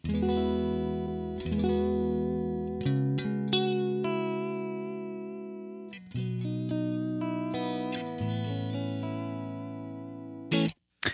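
Electric guitar run through a pedal board vibrato effect, chords and single notes wavering in pitch, played loud and close with short pauses between phrases and no talking.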